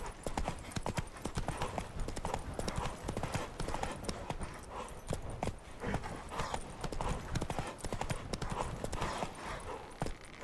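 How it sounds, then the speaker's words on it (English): Hooves of the horse Roach gallop in The Witcher 3 video game, a fast, steady clip-clop rhythm that stays loud and close throughout, with rustling game ambience beneath. "Run, Roach."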